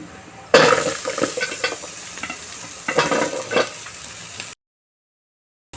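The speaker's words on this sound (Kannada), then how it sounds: "ಇವಾಗ ಮುಂಚೆನೇ ಹೆಚ್ಚಿಟ್ಕೊಂಡಿರೋಂಥ ಈರುಳ್ಳಿನ ಹಾಕ್ಕೊಳ್ತಾ ಇದ್ದೀನಿ" Chopped onions hit hot oil in a pan for bitter gourd fry, a sudden loud sizzle that keeps crackling steadily with a few stirring clinks, then cuts to silence.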